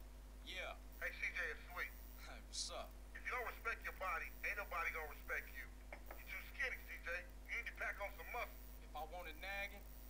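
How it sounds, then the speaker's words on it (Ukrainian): A telephone rings in the video game GTA San Andreas, set against steady background tones and heard under near-continuous talking voices. "Ой, телефон."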